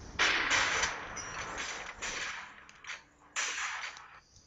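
Several sharp gunshot sound effects crack out in a row for a color explosion effect, each burst loud with a short decaying tail and gaps between them.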